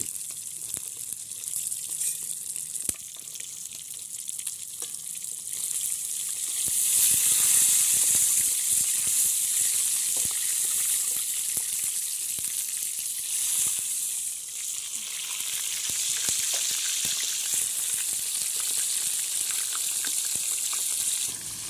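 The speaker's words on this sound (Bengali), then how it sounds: "মাথাটা কিন্তু আরও ভালো করে ভাজা হবে, যেহেতু বড় মাথা একটু সময় লাগবে ভাজতে" A large shol fish head frying in hot oil in a pan, giving a continuous, loud, bright sizzle that swells and eases with small crackles, with no voices.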